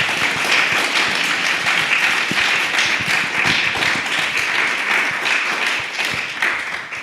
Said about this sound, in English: Let's have a big round of applause for our panel.